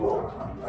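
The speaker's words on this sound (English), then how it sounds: "My dogs are going just slap crazy." Several dogs bark and yip indoors in a brief, loud, continuous burst, close by with no one talking.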